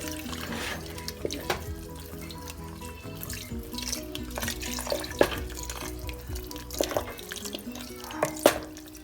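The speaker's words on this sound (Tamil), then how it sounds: "இப்போ தேங்காய் பால் ஆட் பண்ணிடலாம்" Coconut milk poured into a pot of rice and fenugreek porridge, giving soft, close liquid splashing and dripping with a few sharper drips, no talk.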